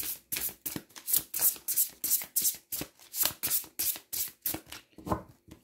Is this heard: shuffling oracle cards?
yes